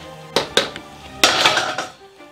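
A utensil stirs a spicy, creamy penne pasta sauce in a pan, giving a few sharp clinks and scraping knocks against the metal, close and fairly loud, in short irregular bursts with no talking.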